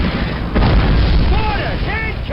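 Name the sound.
mortar explosions in the video game Call of Duty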